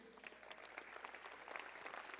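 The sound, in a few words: audience applause at Canyon Challenge event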